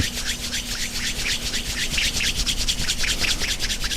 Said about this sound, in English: go ahead and rub your hands together until they're very warm